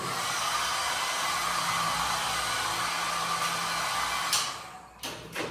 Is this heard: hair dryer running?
yes